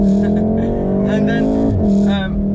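A Volkswagen Golf R's engine and exhaust hold a steady, loud drone close by, with people talking over it throughout.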